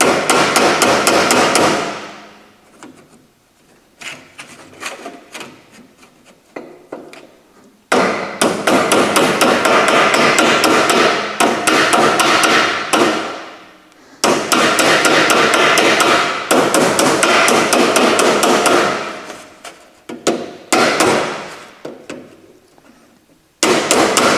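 A car front apron panel, clamped to a heavy box section, being shaped with a hammer and dolly: loud rapid metallic hammer blows in long dense bursts separated by brief pauses.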